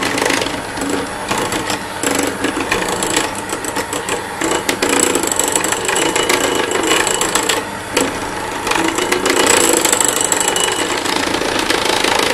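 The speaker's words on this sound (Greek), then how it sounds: "Λοιπόν, σε χαμηλή ταχύτητα πλέον χτυπάμε." An electric mixer beats butter batter at low speed, a steady, close, rattling motor whir with a gritty texture that runs continuously, with brief dips in the grinding.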